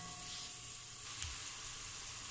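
Seco de pollo, a chicken stew, sizzles steadily in a pan, a continuous close hiss with no pauses and no talking.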